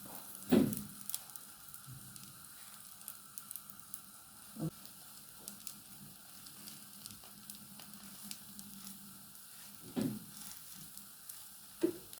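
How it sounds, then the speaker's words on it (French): Savory crêpes frying in a pan, a soft low sizzle running quietly throughout, broken by a few louder clunks of the pan or utensil, with no one talking. "Et les crêpes dans la poêle"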